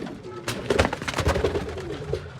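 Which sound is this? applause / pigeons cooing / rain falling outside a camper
pigeons cooing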